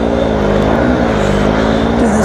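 A dirt bike engine screams flat out as the bike bogs through deep, soft sand, a loud, steady, close drone with no letup.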